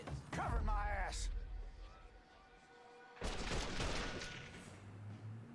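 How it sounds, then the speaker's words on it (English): Gunfire rattles in the Mafia III video game, bursts of shots heard behind someone talking, loud and close at the start and again after a brief lull. "He's just shooting the tree."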